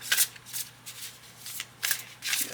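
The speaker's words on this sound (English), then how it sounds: "a few more shuffles while you're focusing, breathing." A deck of oracle cards is shuffled by hand in several quick riffling bursts, soft and close, in a quiet room with no talk.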